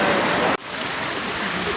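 A roaring mountain waterfall on the Kedarnath trek, heard as a loud, dense rush of water close by that drops out abruptly for an instant, then returns slightly softer and continues steadily.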